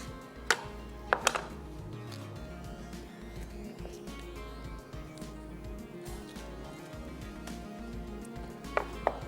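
A knife slices an onion for a beef boti chana rice dish, giving sparse, sharp cuts on a board, a few clustered taps early and near the end, over steady kitchen background noise.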